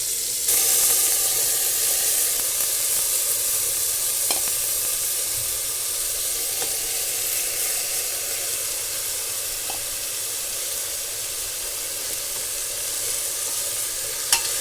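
Vegetables for pav bhaji sizzle steadily in a hot pan, a constant close hiss with occasional scrapes and knocks from stirring, no talking.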